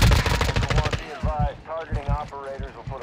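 A second of rapid automatic gunfire in Call of Duty: Modern Warfare II rattles loud and close, then cuts off as a voice shouts over quieter game sounds.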